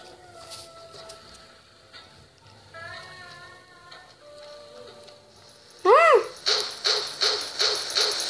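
A pitbull in the Pixel Gun shooter game barks in a quick, loud rhythmic series after a stretch of softer game sounds and effects.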